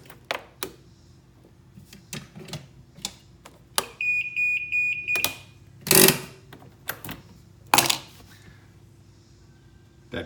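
A Bintelli 4PF golf cart's reverse warning sounds as a short run of rapid, evenly spaced beeps, heard alone among clicks and handling knocks, with a couple of loud bursts of noise nearby.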